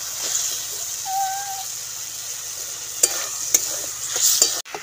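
Chopped tomatoes sizzle with garam masala and spices in a hot pan, a steady close frying hiss broken by several sharp stirring knocks and scrapes, with a brief whistle-like tone early on and no talking.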